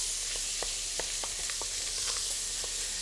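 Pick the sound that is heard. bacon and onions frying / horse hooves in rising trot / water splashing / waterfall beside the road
bacon and onions frying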